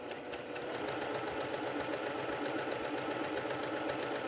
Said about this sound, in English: Okay, so I'm just sewing